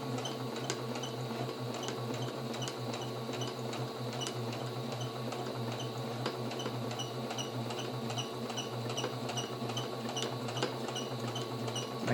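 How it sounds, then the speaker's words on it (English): Domestic sewing machine with a free motion quilting foot stitching a quilt at a slow, steady pace, a close, even mechanical whir with regular faint clicking ticks, no talk. "the quilting foot, free motion quilting foot on the machine"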